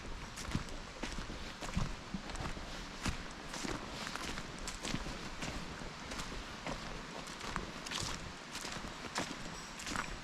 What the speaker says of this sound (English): The horses are coming in here.